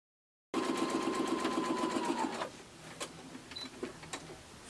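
A sewing machine stitches quilt seams with a steady, rapid whir for about two seconds, then stops. A few light clicks and handling sounds follow nearby.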